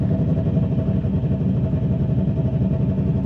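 A Subaru WRX engine idles close by with a rough, lumpy, choppy rhythm from a persistent misfire, a steady uneven loping throb under a faint mechanical clatter.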